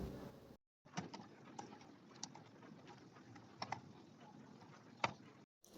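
Someone types on a computer keyboard while entering a currency name in accounting software. The key clicks are faint and irregular over a quiet room hiss, with a few sharper taps standing out, and no voices.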